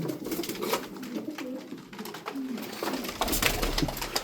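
Tumbler pigeons in a loft coo softly, several low throaty calls overlapping at close range amid rustling and light background noise.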